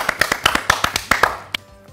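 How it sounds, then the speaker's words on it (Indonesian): A small group of children clapping their hands in a quick, uneven burst of about a dozen sharp claps, close and fairly loud, tapering off after a second and a half. "kita tepuk tangan ya"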